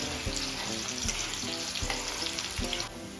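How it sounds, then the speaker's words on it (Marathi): Onions sauté in a pan until golden for a village-style crab curry, a loud continuous sizzle broken by repeated scraping strokes of a stirring spoon. "घातलेली कांदा छान गोल्डन कलर येईपर्यंत परतून घ्यायचा आहे"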